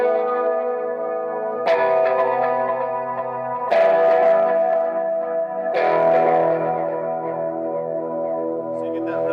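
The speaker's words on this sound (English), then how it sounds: "So it has a pretty long repeat on it, and some added modulation just to give it a little more of the pitchiness." An electric guitar played through a TC Electronic delay pedal on a Space Echo setting, three sustained strummed chords each trailed by long warbling modulated repeats that wash into one another, loud and close with no voices.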